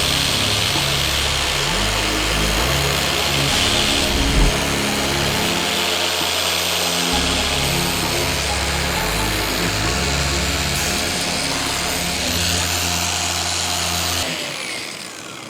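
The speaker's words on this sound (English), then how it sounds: "I'll turn up the speed now, and we're gonna wax it." Car polisher buffing wax onto the hood of a C10 truck: a loud, steady motor drone with shifting low-pitched tones as the pad is worked across the surface, running nearly continuously before the machine cuts off at the end.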